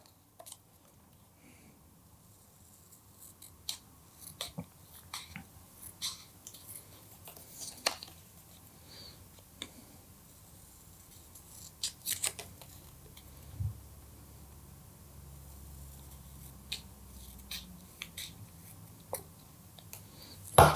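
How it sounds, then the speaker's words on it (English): Scissors snipping through paper to make a Mr. Monopoly magic gimmick, heard as sparse, quiet, irregular cuts close by in a hushed room with no talk. "But I like to use the scissors, and this is a very simple thing to cut."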